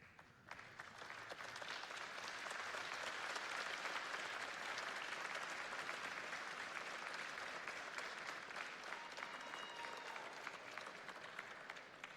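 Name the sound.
audience applauding at convocation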